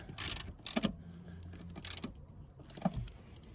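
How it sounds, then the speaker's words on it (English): A ratchet tightens the rear seat bolts on a Subaru, with several short bursts of quick clicking separated by brief pauses, close and fairly quiet, with no voices. "let's go ahead and tighten these bolts back down"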